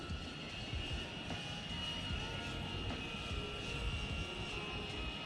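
Deepspace Stellar 25 FPV drone on a fast, high-throttle lap, giving a steady, dense whirring roar with a sustained high whine that holds close and loud throughout, with no talking.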